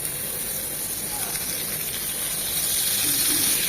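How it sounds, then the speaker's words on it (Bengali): Hot soybean oil poured into a pan where eggplant slices are frying gives a steady broadband hiss and sizzle that swells slightly toward the end. "এখন দিয়ে দিব তেল।"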